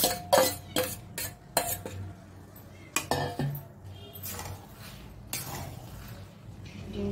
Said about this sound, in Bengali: ঘি দেওয়ার পর ডিম দেবে, ওই একসাথেই নাড়া হবে।